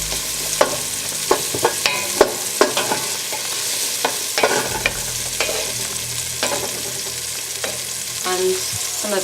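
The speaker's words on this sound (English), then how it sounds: "the yellow onion today. We're going to stir that around." Yellow onion fries in a pot with a steady soft sizzle, punctuated by repeated scraping and clanking strokes of a utensil stirring it, close and fairly loud with no talking.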